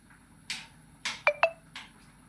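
A mobile phone chimes a text message notification in a kitchen, a few short electronic beeps and tones spread over about two seconds against a quiet background.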